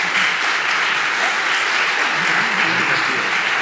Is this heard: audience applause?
yes